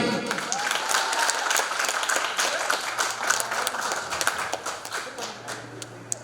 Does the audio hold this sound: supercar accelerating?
no